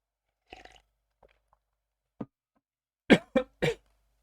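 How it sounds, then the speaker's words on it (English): A person coughing after choking on water: a few faint early sounds, then three sharp, close coughs in quick succession near the end. "Just coughing on my water."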